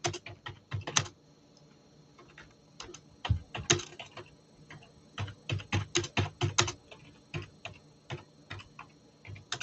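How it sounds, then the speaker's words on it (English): Fingers type on a computer keyboard close by, in quick irregular clusters of crisp key clicks with short pauses between the bursts and no talking. "Let me just type something in."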